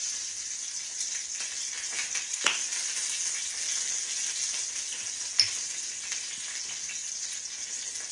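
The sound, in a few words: stirring and sizzling chicken vegetable soup ingredients in pot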